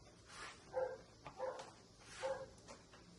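Dogs bark several times in the backyard at people moving in the woods behind the house, giving short, fairly soft barks spaced a second or so apart over faint outdoor background noise.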